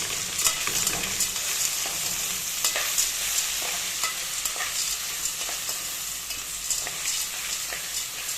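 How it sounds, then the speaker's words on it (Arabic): Onion stir-fried into pasta in a pan for a fried pasta dish: a steady, dense sizzle runs throughout, broken by frequent scraping and clinking strokes of a utensil stirring close by, with no talking. "هبدا اشوح بيها كده في قلب المكرونه."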